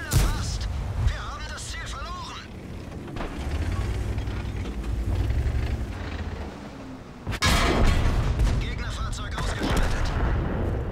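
World of Tanks tank cannon firing gold ammunition, heavy booming blasts with a loud shot near the end over rumbling battle noise, with voices talking underneath.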